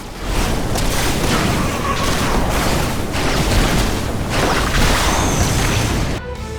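Liberator particle accelerator cannon from StarCraft 2 firing steadily, a dense continuous barrage of loud booming blasts that carries on throughout before cutting off abruptly near the end.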